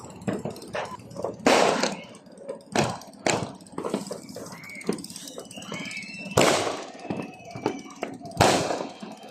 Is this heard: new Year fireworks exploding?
yes